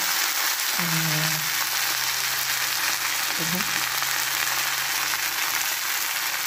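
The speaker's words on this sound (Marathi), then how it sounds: "फोडणी टाकली लसणाची" Steady broadband sizzle of garlic frying in hot oil, continuous throughout, with a couple of brief clinks early on.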